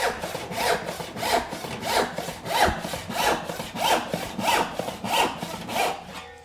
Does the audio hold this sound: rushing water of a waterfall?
no